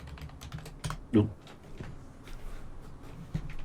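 Someone types on a computer keyboard, a rapid run of light key clicks continuing steadily under people talking during a tabletop role-playing session.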